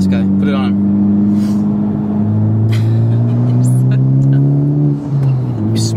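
In sport mode, a Honda Civic Type R accelerates hard on a road, the engine note rising steadily with a gear change, loud and near, while people speak over it in short bursts.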